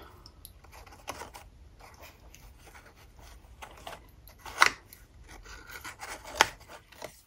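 Scissors cutting paper or ribbon while a flower gift box is being assembled, heard as soft, close snips and rustles with two sharper cuts standing out toward the end.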